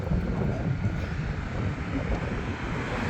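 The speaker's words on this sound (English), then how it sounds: "Can you feel the wind?" Gusty outdoor wind buffets the microphone as a steady, loud low rumble throughout, beside an excavated Byzantine-era neighborhood wall at the foot of the Mount of Olives.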